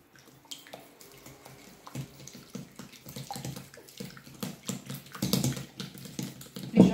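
A savory almond cake batter is stirred in a bowl with salt and pepper, heard as close, irregular wet clicking and scraping that grows louder toward the end, with no talking.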